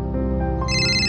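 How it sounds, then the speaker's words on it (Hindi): An electronic telephone ringtone trills steadily, loud and close, with a bright melodic pattern that rises in pitch partway through, with no talking over it. "फोन रिंग हो रहा है।"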